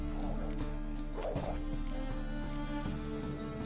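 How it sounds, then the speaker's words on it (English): Dogs bark and yip in The Witcher 3, with a few short woofs and whimpers at mid distance over a droning background of game music and ambience. "Just beware of the dogs."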